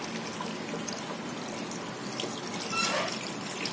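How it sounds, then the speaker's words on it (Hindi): Water in which goat trotters (paya) were boiled is poured into a curry in a home kitchen, giving a steady, continuous splashing pour at close range with no talk. "सबसे पहले हम डालेंगे ये पाए वाला पानी जिसमें हमने पाए को उबाला था।"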